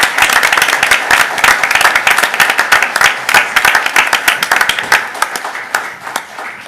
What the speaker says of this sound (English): We can all give her a big round of